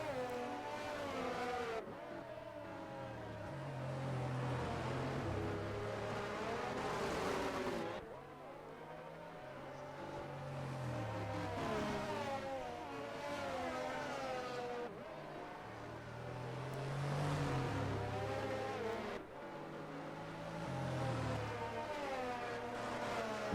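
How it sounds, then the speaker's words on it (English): Race car engines roar in a Formula One style racing game at the Azerbaijan Grand Prix, continuous whining revs rising and falling through gear changes, with brief dips between passes, loud and alone. "you can just enjoy the sounds of the cars"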